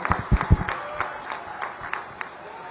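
Applause from an audience welcoming Amit Shah at a public function, a scattered burst of clapping that thins out over a couple of seconds, with brief voices underneath.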